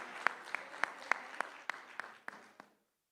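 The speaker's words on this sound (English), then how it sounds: "one more round of applause for the gorgeous Nargis Fakhri" Applause for actress Nargis Fakhri at a summit event, a sparse, steady run of distinct claps at moderate distance that fades out toward the end.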